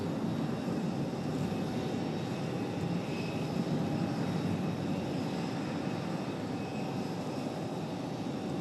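A Frontier jet airliner takes off from Raleigh Durham International, its engines a steady, loud broadband roar that holds without a break throughout.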